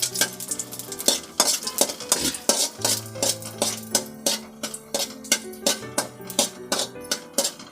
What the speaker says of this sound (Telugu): నెయ్యి ఉడకైంది, గోడంబి వేసుకుంటా